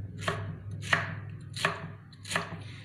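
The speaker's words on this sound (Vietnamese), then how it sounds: "Đây, các bạn thái lát như này." Knife slicing food for sugarcane-pineapple steamed chicken, four evenly spaced crisp cuts on a board, close and moderately loud, with a voice speaking over them.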